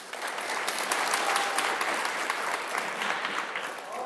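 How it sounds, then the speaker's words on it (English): Steady audience applause at a junior camp meeting, a dense continuous patter of many hands clapping at moderate distance throughout, with no talk over it. "Give him a round of applause."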